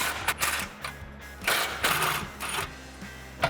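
An 18mm socket on a ratchet loosens fog light mounting hardware on the inside of a Jeep Wrangler JL front bumper, making short bursts of mechanical clicking and ratcheting with brief pauses between them.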